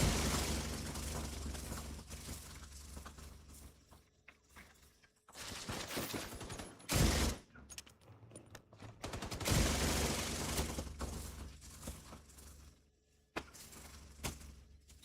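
Bursts of heavy gunfire in the shooter game Tom Clancy's The Division 2 come in dense volleys separated by short gaps, with sharp cracks and impacts layered over the game's rumbling background.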